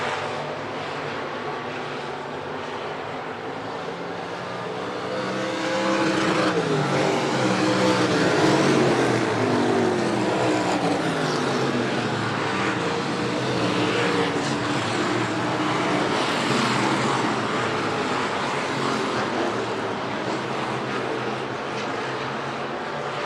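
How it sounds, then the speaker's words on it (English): Stock cars and modifieds racing under green at Buena Vista Raceway, a steady broadband engine roar of several cars swelling louder mid-clip as the pack passes, continuous with no talk. "As the action continues to stay green flag racing here at Buena Vista Raceway."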